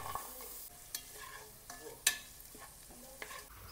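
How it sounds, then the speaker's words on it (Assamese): Onions frying in hot oil with cumin seeds and bay leaf for a vegetable pulao, a soft steady sizzle broken by a few sharp spoon scrapes and clinks, close but quiet, with no talking. "কিটামান জিৰা তেজপাত দি পিয়াজখিনি ভাজি ললো"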